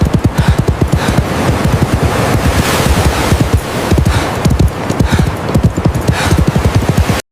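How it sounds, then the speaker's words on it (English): An AI-generated horse race gallops across a huge beach with several riders and big waves breaking close by: dense, rapid hoofbeats drum continuously over a broad rush of wind and surf, loud and near throughout. "first-person view of a horse race happening at insane speed across a massive beach, with 2 or 3 riders racing alongside, huge waves crashing close to the track"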